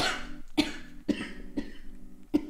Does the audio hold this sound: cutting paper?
no